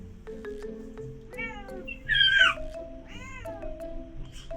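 A house cat meows several times in a row at close range, with one louder, higher-pitched cry in the middle, in a quiet indoor room.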